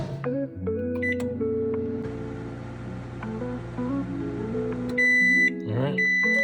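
A microwave oven hums steadily while cooking walleye fillets, with bright electronic beeps sounding near the end over a continuous tonal background.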